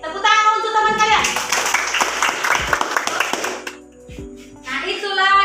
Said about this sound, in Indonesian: Oke, tepuk tangan untuk teman kalian.